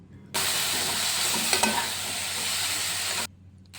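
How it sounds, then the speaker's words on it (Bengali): Chopped onion from one large onion and four dried red chillies hitting hot oil in a pan, a loud, close sizzle that bursts on suddenly, holds for about three seconds and then drops away. "এটা ভালো করে ভেজে নেব একটু। তারপরে 4টা শুকনো লঙ্কা দিচ্ছি।"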